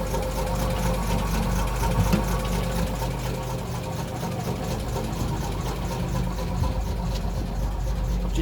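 A Ford F1 truck engine with a broken exhaust idles steadily, a rough, even mechanical chatter with a constant low rumble that runs unbroken and fairly close, with no voices.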